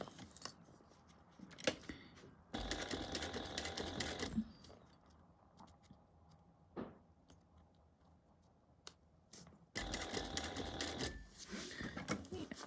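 A sewing machine stitches a quarter-inch seam on a fabric bag, running in two loud bursts of steady rapid stitching separated by quieter handling sounds and brief clicks, close up.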